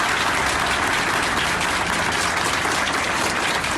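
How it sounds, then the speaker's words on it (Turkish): Hospital staff applaud together in protest as a patient leaves, with dense, loud, continuous clapping from many hands and no talk over it. "hastaneden sağlıkçıların alkışlı protestosuyla uğurlandı"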